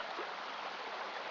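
River water flows through a gold washing box in a soft, steady rush, heard alone and fairly faint.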